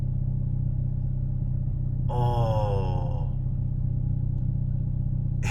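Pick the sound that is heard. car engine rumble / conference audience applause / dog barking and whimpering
car engine rumble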